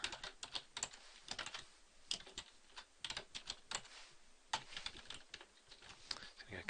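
Fingers tap on a computer keyboard in quick, irregular bursts of clicks, close and quiet, with a voice talking faintly alongside.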